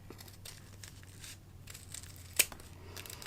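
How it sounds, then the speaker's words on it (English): Scissors snipping and crinkling a thin paper coffee filter into a petal shape, several soft close cuts with rustling paper between them and one sharper snip, quiet and without talking. "So I'm going to go ahead and cut kind of a petal shape"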